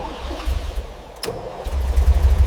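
A 1937 Peugeot 402 Darl'Mat engine turns over and catches around the middle, then settles into a steady, loud, low idle that continues to the end, heard close with no talk.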